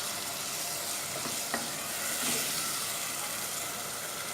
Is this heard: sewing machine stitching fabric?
no